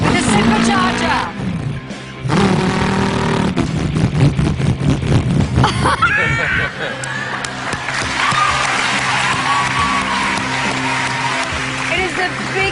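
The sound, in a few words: voice imitating a Shelby car supercharger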